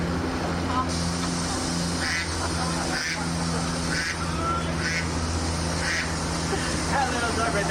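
A small duck quacks in bursts on a Universal Studios Hollywood movie set, the calls repeating every second or so over steady outdoor background noise and a low engine hum, with people talking nearby.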